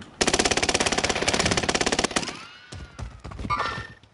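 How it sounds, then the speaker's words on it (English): Sustained rapid machine gun fire in a video game rattles loud and close for about two seconds, then gives way to scattered shots and impact effects. "Taking heavy fire."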